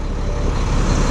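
Heavy low rumble of a truck engine and hydraulics as a truck-mounted tower is lowered, loud, close and steady over the brief moment, with no voices.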